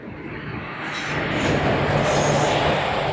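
A train pulls into a railway platform, its rumble and wheel noise building from fairly quiet to a loud, steady roar over a few seconds, with no talking.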